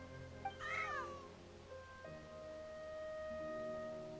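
Cats in Genshin Impact let out a clear, close meow with a rising and falling pitch, then a long, thin sustained cry over a quiet, steady game backdrop.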